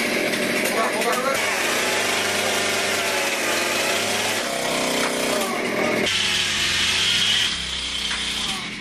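A chainsaw roars close and loud on a horror film set, its engine note rising and falling as it revs, with voices and commotion mixed in around it.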